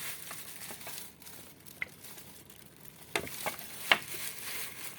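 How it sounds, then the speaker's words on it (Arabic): A spoon tossing tabbouleh salad dressed with olive oil in a bowl, giving soft wet stirring rustles with a few sharper clinks and taps near the end, close and fairly quiet, with no voices. "وهقلبهم برضو مع بعض كويس قوي"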